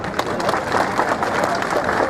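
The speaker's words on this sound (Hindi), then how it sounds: "बाला साहब का नाम आते ही ताली तो हो जा रही है" A crowd at a political rally in Aurangabad's Aamkhas ground claps in steady, dense applause, loud and sustained throughout the short stretch.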